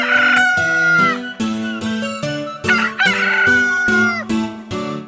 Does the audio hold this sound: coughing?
no